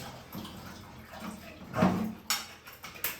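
Clean water is poured into a bathroom floor drain trap during a renovation, a soft, low running splash with a few brighter gurgles and drips near the end.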